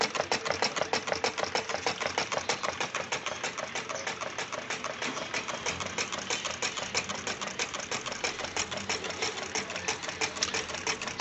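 Homemade Stirling engine running steadily, its piston beating in a fast, even mechanical rhythm like a sewing machine, continuous and close with no talk over it.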